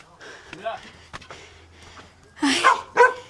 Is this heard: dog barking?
yes